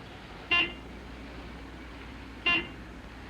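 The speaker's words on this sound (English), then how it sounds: "what's that old dog catcher honking at us for?" A dog catcher's truck horn gives two short, sharp toots about two seconds apart, moderately near over a faint steady background hum.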